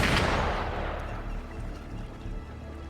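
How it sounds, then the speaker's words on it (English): Gunfire in the video game Wuthering Waves: a heavy opening blast or shot that rolls into a fading, rumbling decay, loud at first and dying away over a few seconds, with no voices. "Gunfire! We've got intruders."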